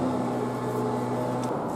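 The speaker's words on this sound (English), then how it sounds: "council guys turned up and they're blowing all the leaves and stuff around and clearing the drains" Council workers' leaf blowers clearing leaves and drains nearby, a steady droning engine hum that stays fairly faint and distant throughout the short stretch.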